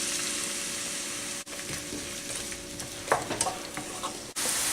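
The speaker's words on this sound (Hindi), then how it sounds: "अब एक पैन में 1/2 कप ऑयल डालें और उसमें ये प्याज डाल दें" Sliced onions fry in half a cup of oil in a pan for mutton liver masala, a steady close sizzle with a few stirring clicks and two brief cuts in the sound.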